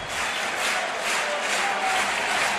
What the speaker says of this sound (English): Capacity crowd here at Wrigley.